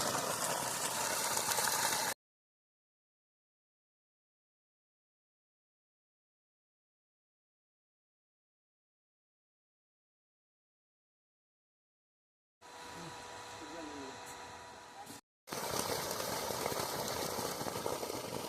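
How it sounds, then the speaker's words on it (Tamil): A 5 HP Texmo two-stage vertical water pump at a 50-foot well in Tirunelveli district runs with a steady mechanical drone, heard in short stretches at the start and end, with a long silent gap between. "5 HP Texmo vertical pump, 2 stage pump"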